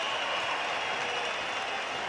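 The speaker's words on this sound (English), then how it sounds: "he deserves that big, big round of applause he's getting now" Boxing arena crowd applauding a Scottish fighter after a tough bout, a dense, steady wash of clapping held at an even level throughout.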